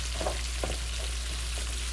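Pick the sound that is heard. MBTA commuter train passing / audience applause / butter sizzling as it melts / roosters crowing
butter sizzling as it melts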